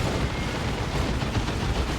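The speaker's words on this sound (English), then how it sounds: "Where you kill an Ork and a big explosion happens." An Ork blows up from unstable fuel injection in the Warhammer 40,000: Dawn of War 2 video game, a loud, dense roar of explosive blasts and gunfire that fills the whole stretch without letting up.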